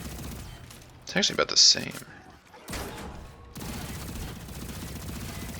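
Rapid video-game gunfire landing headshots without reloading, a short burst of sharp shots under a player's commentary, followed by continuous game background noise.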